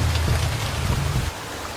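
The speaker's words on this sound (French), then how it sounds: "La pluie frappe les feuilles vertes et produit un son de musique douce." Rain falls on green leaves in the Banco National Park forest near Abidjan, heard from a car on a drive: a continuous close patter over a low engine rumble that eases off near the end.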